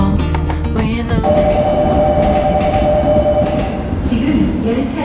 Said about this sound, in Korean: 지금 열차가 들어오고 있습니다.